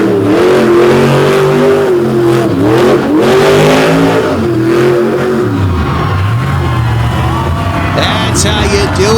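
A monster truck at a Monsters 'N' Megas show at West Lebanon, its engine revving loud and close as it spins a drifting donut on the track, pitch rising and falling, with an announcer talking over it.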